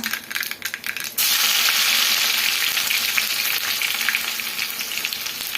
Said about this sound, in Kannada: ಈಗ ಬೆಳ್ಳುಳ್ಳಿ ಜಜ್ಜಿಟ್ಕೊಂಡಿದ್ನಲ್ಲ ಅದು ಸೇರಿಸ್ಕೊಳ್ಳೋಣ.